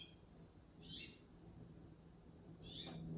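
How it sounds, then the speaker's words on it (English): A bird sings faintly outdoors, two short clear calls about two seconds apart over a quiet low background hum, with no talking. "What is that bird? It's been singing so strongly, right, in this little video."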